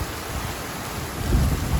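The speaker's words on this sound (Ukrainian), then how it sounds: "А зараз лупанув дощ." A sudden heavy downpour of rain on a hot summer day in Germany, a dense steady roar with a low rumble that swells toward the end, close and loud with no voices.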